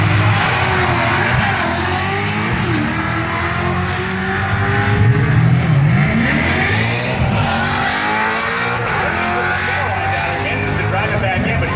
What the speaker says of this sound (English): Charlie Rankin from Media, Pennsylvania, the 1988 Mustang.